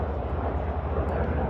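An airliner comes in to land at Charlotte Douglas airport, producing a loud, steady jet roar that fills the whole moment without letting up.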